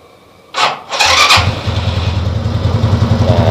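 Suzuki Skywave 125 motorcycle's electric starter whirs briefly, then the engine catches and settles into a steady, close low idle.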